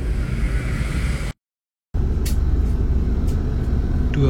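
A Putera Mulya Mercedes-Benz 1836 Maxibus coach drives near Subang on a Depok to Solo trip, giving a steady heavy engine and road rumble with a brief cut in the middle.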